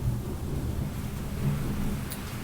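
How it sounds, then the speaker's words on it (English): Thunder during a rainstorm comes through as a low, distant, rolling rumble that swells faintly around the middle and again near the end, steady and muffled beneath the background. "wow, thunder."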